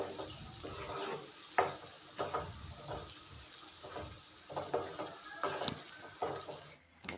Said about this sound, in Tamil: இப்போ இது எல்லாத்தையும் நல்லா வறுத்து எடுத்துடலாம் முட்டை உடஞ்சிடாமல் மெதுவாக கலரி எடுக்கணும்